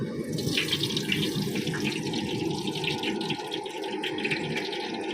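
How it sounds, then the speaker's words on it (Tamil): Cooking oil poured from a container into a pan while making ghee rice gives a continuous liquid splashing and trickling for several seconds, close and clear. "இப்போ தேவையான அளவு எண்ணெய் ஊற்றிக்கலாம்."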